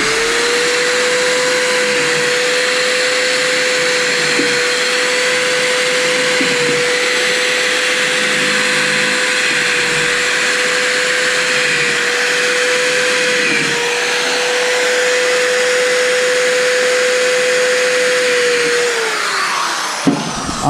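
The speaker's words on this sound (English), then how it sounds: "Pop you some pilot holes in here." A drill runs continuously, boring pilot holes into 2x wood for a box bottom. It makes a loud, steady, high motor whine for about twenty seconds, then winds down at the end, with no talk.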